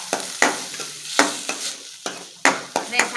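Ginger and garlic, then chopped onion, sauté in a pan as momo stuffing. Loud sizzling is broken by repeated sharp scrapes of stirring at a regular pace, close by and with no voices.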